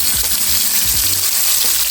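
Vegetables hit a hot pan and fry with a steady, loud, close sizzle and crackle, with a few soft clanks of utensils early on, during a quick turkey meatball and gravy recipe.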